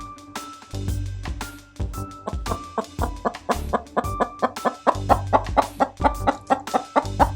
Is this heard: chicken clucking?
yes